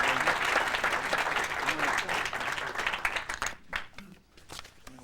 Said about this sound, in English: Let's have a cheer for George Meinig.